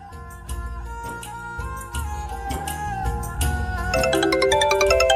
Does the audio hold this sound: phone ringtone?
yes